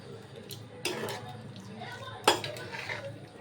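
Taro leaf greens (kochu shak) stirred in a metal pot: two distinct scraping clanks of a spoon against the pot over a quiet background with faint low murmuring.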